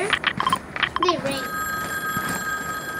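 A telephone booth in a video game rings in short repeated bursts, then a steady electronic tone follows, all under talk.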